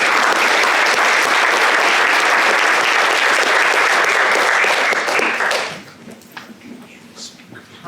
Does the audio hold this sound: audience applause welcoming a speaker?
yes